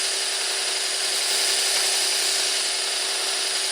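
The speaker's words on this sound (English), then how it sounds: "I'm going to bring my piece of material up to the sanding belt" Continuous whirring of a combination belt sander working wood, an even high-pitched hum with gritty abrasive hiss, steady and close.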